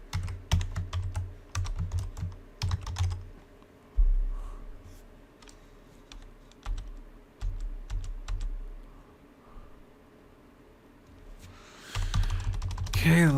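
Bursts of rapid typing on a computer keyboard, clusters of crisp key clicks separated by short pauses, close and clear.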